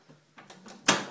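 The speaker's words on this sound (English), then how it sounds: "As soon as we shut the door." A microwave door swings shut with one sharp, loud clunk near the end, after a few faint bumps and rustles in a quiet indoor room.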